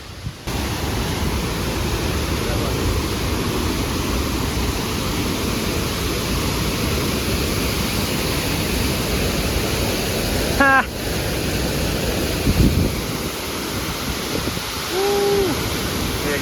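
A waterfall in northern Thailand, on the Mae Hong Son loop, pours out a steady, dense rushing roar that stays loud and close throughout, with only brief faint sounds over the top.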